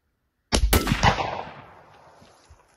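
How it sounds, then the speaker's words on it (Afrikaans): A rifle fitted with a thermal rail-mounted scope fires a single sharp, loud close shot outdoors, followed by a rapid echo and a long rolling decay that fades over about two seconds. "En nog 'n skoot vir die lekkerte."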